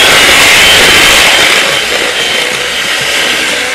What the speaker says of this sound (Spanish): Voy a darle un último batido para que no se separe lo líquido de la grasa.